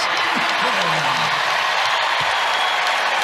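A basketball arena crowd at a UConn versus Notre Dame women's college game applauds in a dense, continuous roar of clapping and cheering, with faint voices mixed underneath.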